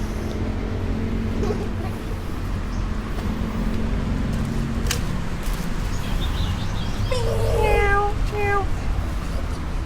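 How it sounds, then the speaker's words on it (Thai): Cats meowing at a temple cat shelter in Thailand, a few short distinct meows near the end over steady outdoor background hum, with a brief clatter midway. "ข้างในก็มีเยอะเลยนะครับแมวนะครับ"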